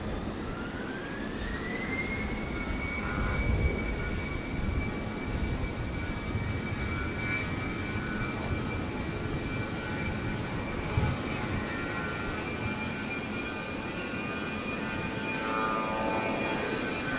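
A Fokker airliner taking off at Brisbane International Airport, its jet engines roaring loud and steady throughout with a rising whine as power builds, mostly alone with only faint background noise.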